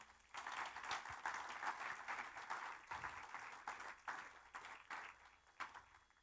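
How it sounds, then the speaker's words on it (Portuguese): Church congregation breaks into sustained applause, a dense wash of clapping heard at a distance and fairly faint, rising quickly and continuing steadily. "dê uma salva de palmas a Jesus."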